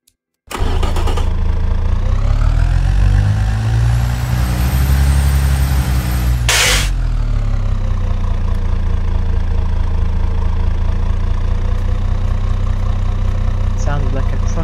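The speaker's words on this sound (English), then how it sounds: "Sounds like a truck indeed." A truck engine cranks and starts, then settles into a steady, loud idle with a deep rumbling drone, revving briefly partway through.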